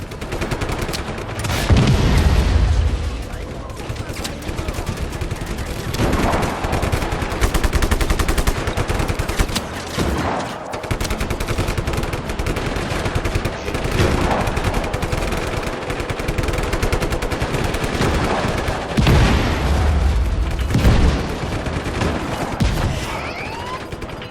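In Just Cause 3, an armored vehicle's cannon booms and rattles in rapid, repeated bursts, loud and nearly continuous, with game-like battle noise throughout.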